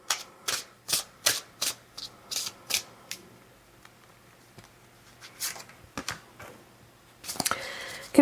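Tarot cards are shuffled and drawn in a quiet room, a run of crisp rhythmic riffling bursts followed by softer sliding and tapping of cards, then a louder flurry near the end.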